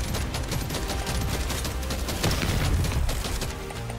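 Rapid, dense gunfire in the video game Deep Rock Galactic: Survivor rattles on without a break for a few seconds, forming a muffled, continuous barrage at moderate volume.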